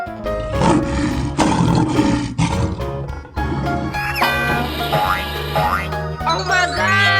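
A lion roars in a 3D animal slide video game, a loud, sustained cartoonish roar mixed with springy boing effects and game music, and no one talks.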